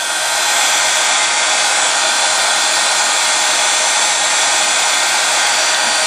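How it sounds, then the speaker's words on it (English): Heat tool for embossing runs as a steady, loud hot-air roar that holds unbroken through the whole stretch. "come in with the heat tool so you can see when it gets done"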